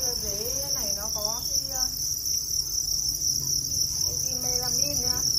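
Thai crickets on a home cricket farm keep up a steady, piercing high chirr, loud and continuous throughout, while softer, warbling calls from other insects or birds rise and fall in the background.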